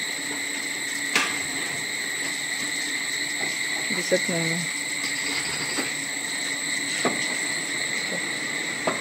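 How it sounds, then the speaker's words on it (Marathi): Steady, high-pitched cricket chirping at the start of the rains in Dapoli fills the background continuously, with a few brief nearby knocks and a short spoken phrase partway through. "रातकिड्यांचा आवाज बघा."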